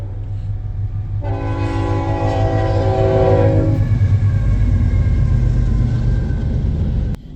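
A train horn blares in long sustained blasts over the steady rumble of a passing train beside the Mississippi River in Columbus, Kentucky, which keeps rolling loudly after the horn stops.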